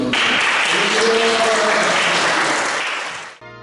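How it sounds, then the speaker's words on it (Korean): A church congregation at a book-launch worship service applauds in a loud, dense wash of clapping that swells and then cuts off abruptly. "우리 하나님께 박수를 영광"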